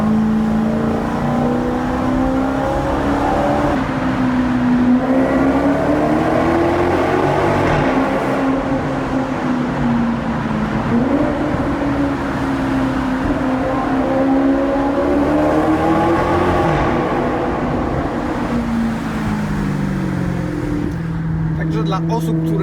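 Maserati GranTurismo 405 HP engine in a tunnel with the windows open, a loud sustained roar that swells and eases in long waves as it revs, with someone talking over it throughout.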